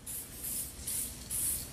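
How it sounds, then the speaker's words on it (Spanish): Black aerosol spray paint is applied to aluminium bodywork in four short, steady hissing bursts with brief pauses between them, close and clear, with no talking. "los fuselajes de aluminio fueron pintados con aerosol negro"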